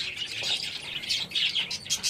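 Budgerigars in a home aviary where they nest and lay eggs, chirping and squawking in a dense, continuous chatter of bright calls close by, with no voices.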